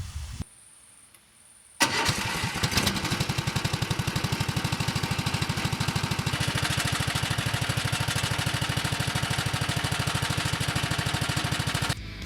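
A Muravey motor scooter fitted with a walk-behind tractor engine and a motorcycle muffler starts up after a brief quiet moment, then settles into a steady, rapid, even chugging idle, close and loud with no voices.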